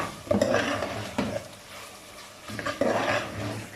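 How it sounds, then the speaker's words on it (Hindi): Beef karahi browning in a wok with karahi masala added, close sizzling broken by rhythmic scraping strokes of a spoon against the pan, no voices. "अब हम इसमें कढ़ाई मसाला शामिल करेंगे"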